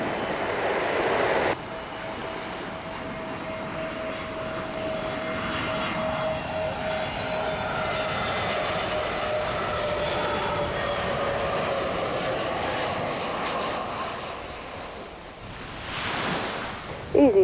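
An easyJet airliner comes in to land on runway 27 at Gibraltar, its steady engine roar and whine holding close and loud over a continuous wash of sea surf, with a brief burst of noise at the start and end.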